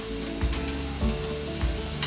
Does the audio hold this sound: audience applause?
no